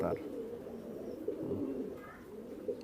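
A pair of Saki Teddy pigeons coo softly at a farm selling Indian and Pakistani breeds, a low steady murmur of repeated coos close by with faint chirps over it.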